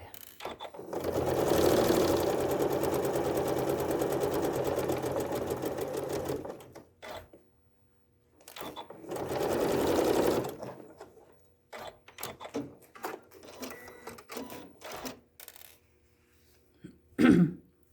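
A sewing machine stitches a quarter-inch seam on a quilt sampler block, running in a steady whir for several seconds, pausing, then a shorter burst, followed by scattered handling noises.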